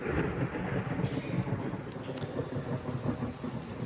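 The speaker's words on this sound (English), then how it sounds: "catching that thunderclap you just heard" A thunderclap booms through a heavy rainstorm in Knoxville, East Tennessee, where a sudden downpour is driven by gusty wind. A loud, continuous low rumble rolls over steady rain hiss for the whole stretch, with no voices.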